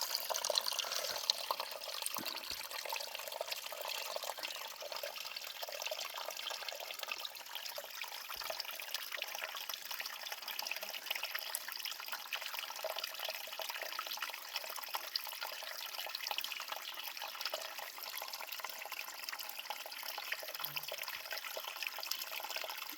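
A mountain valley stream on a forested ridge flows steadily, a continuous close rushing and trickling of water with no pauses, alone and without talk.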